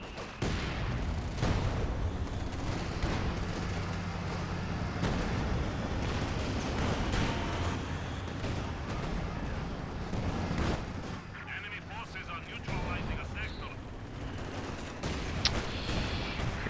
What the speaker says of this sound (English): Oh, nice hits from the Zis gun